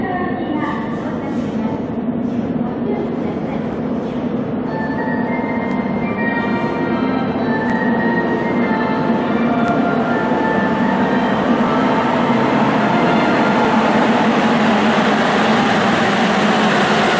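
A subway train rumbles steadily along the tracks with continuous rattling and a faint high whine, loud and close, from inside the car.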